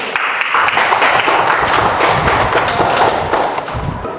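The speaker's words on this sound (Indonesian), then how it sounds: "Tepuk tangan" A group claps on cue in an Indonesian classroom-style lesson, loud close hand claps mixed with thuds and taps, busy and uneven rather than a smooth roar.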